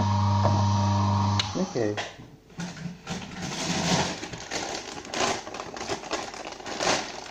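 An Oscar single auger juicer grinds nori with a low motor hum, then irregular crunching and squeaky crushing noises as the auger works through, with a brief spoken word.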